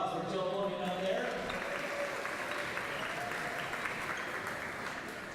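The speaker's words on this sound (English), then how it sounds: "How about a round of applause for Joe Bodie out there?" Crowd applause in a gym at an all-star high school volleyball game, steady broad clapping throughout with a voice talking faintly over it, easing slightly toward the end.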